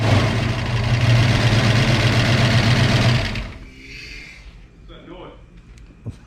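A car engine with a newly fitted camshaft runs at a loud, steady idle with a rapid ticking clatter from lifters still pumping up. After about three seconds it shuts off, leaving quiet background noise and a faint knock.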